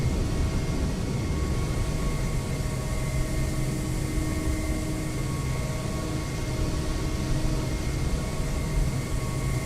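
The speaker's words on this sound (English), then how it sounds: "It's a small airplane, but it's a loud one." A small, loud, older airplane engine in Microsoft Flight Simulator 2020 drones steadily with a constant humming tone and broadband roar, unbroken throughout and without voices.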